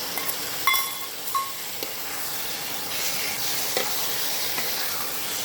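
Mutton pieces fry and sizzle in spiced oil as they are stirred, with a steady close hiss and a few scraping clinks of the spatula against the pan.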